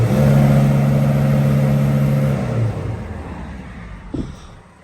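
A 2003 Dodge Sprinter engine with a suspected leaky injector, which won't start without ether, holds a loud, steady high rev close by, then winds down and drops toward idle, with a brief clunk near the end.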